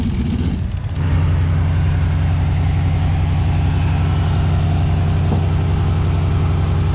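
A gasser drag race car engine at a Southeast Gassers event idles loud and close, with a steady rumbling note after a brief rough start and one small throttle blip late on.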